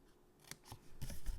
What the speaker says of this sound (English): going to first cut away this lower rectangle piece here.